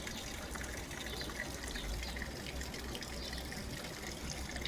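Water trickling and splashing down a small backyard pond creek waterfall, a steady close rushing wash with no break and no voices.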